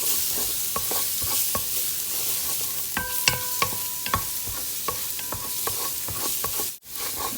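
Onions sizzle and fry in a hot pan for pancit, a constant close crackle with repeated scraping and clanking strokes of a utensil stirring against the pan.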